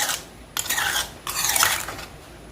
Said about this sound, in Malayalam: അപ്പോൾ ഇതിങ്ങനെ ഇളക്കി മിക്സായി കൊടുക്കുക നല്ലപോലെ പോലെ മിക്സായി കൊടുക്കുക